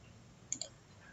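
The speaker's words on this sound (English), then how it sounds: "Let's click on this." Two quick mouse clicks close together in a quiet room, while working in the Talend data integration software.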